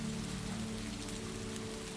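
Rain patters steadily on the streets of Nuremberg, a soft, even wash of drops with a faint low hum beneath, continuous and fairly quiet throughout.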